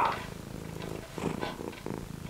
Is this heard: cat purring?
yes